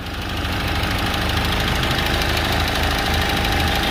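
A Ford Fiesta engine idles with the AC load switched on and its radiator cooling fan not running, giving a steady, close, continuous rumble with a faint knock and no voices.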